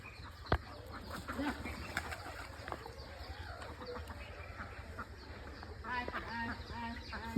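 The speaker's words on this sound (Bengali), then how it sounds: "আমরা হাঁস খুঁজতে চলে আসলাম" Several ducks quack in short bursts against an outdoor background, with faint voices now and then.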